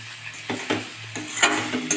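Flattened rice mixed with turmeric and salt goes into a hot frying pan for chirer pulao, a sharp sizzle with repeated scraping stirs and light clinks of the utensil against the pan, close and alone.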